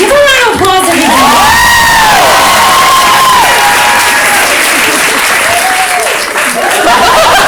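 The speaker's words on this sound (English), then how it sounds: "Give a round of applause, everybody." A live comedy show audience in Sydney bursts into loud applause and cheering, dense clapping mixed with whoops and a few high shouts, filling the room for the whole stretch.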